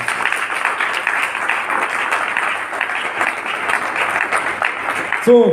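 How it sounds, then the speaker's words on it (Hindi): Congregation applauding and clapping at a church service, a dense, steady wash of many hands lasting several seconds at even loudness, with a brief burst of voice at the very end. "एक बार उस परमेश्वर के लिए ताली बजाकर स्वागत करें"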